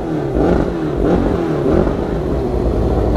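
A CG 600 motorcycle, its engine built from four Honda Titan 150 engines, revs loudly nearby in short rough bursts over a constant rumbling idle.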